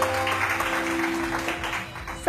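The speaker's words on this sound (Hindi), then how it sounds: "रिदा के लिए जोरदार तालियां हो जाए जी" An audience claps loudly and continuously for a short burst, filling the room at a school or community event while someone speaks over it.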